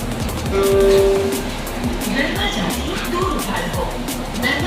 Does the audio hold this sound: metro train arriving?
yes